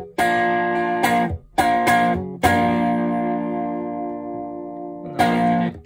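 Electric guitar played through an Otodel Ghost Fuzz pedal on a Stratocaster's rear pickup: a few loud fuzzy chord stabs, then one long sustained chord slowly fading, and a final struck chord, with no talk.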